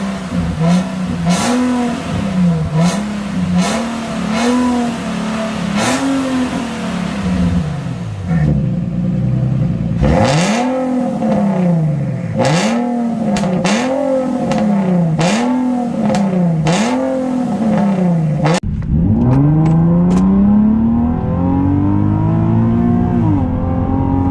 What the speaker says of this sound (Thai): เดี๋ยวไปฟัง นะฮะว่า เสียง ตอนเบิ้ลเครื่องกับตอนปิด ออน ออฟ วาล์วเป็น ยังไงฮะ